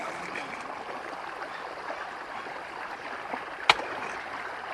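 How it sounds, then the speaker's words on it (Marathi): River water from the nearby Bhima river, lifted by a motor pump, flows into grass-filled field plots. It makes a soft, steady rushing and trickling wash, with one brief sharp click near the end. "हे नदीचं पाणी आहे"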